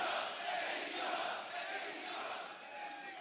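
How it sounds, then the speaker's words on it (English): Arena crowd at the San Jose Civic in California chanting AEW during a wrestling show, a loud, dense, sustained roar of many voices with a steady rhythmic swell throughout. "the chant of AEW rings out here in California"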